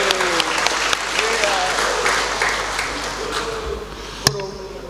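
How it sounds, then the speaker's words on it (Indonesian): An audience applauding at an official gathering, sustained dense clapping that fades slightly toward the end, with a sharp metallic ping near the close. "Tepuk tangan lagi."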